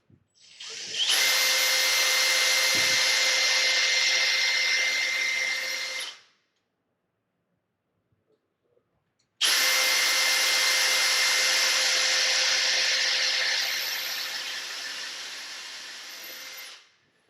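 A power drill whirs in two steady bursts of about five seconds each, pre-drilling pressboard for a pocket door track, separated by a short pause, close and loud with no voices.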